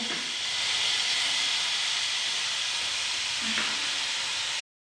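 Potato, carrot and pea vegetables steaming in a covered pan, giving a steady loud hiss that holds evenly for several seconds before cutting off abruptly.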